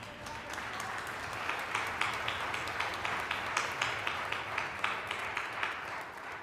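Audience applause rings out at a wind band concert on an outdoor stage, honoring the percussion section's solo: steady, dense clapping from a sizable crowd, sustained evenly for several seconds with crisp individual claps standing out.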